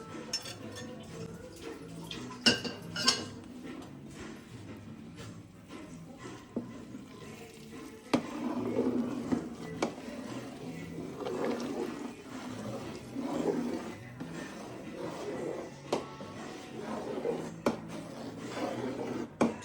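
Rice is stirred in a cooking pot for temple prasadam, giving soft, faint scraping and rubbing with occasional light clinks of the spoon against the pot, with no talk.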